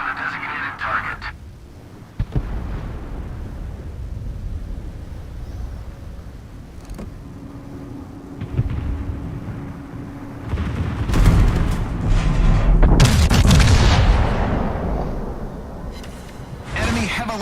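Warship guns and shell explosions from World of Warships naval combat, several booming blasts and rumbling detonations over a steady engine drone, loud and close, with intermittent game radio voice callouts.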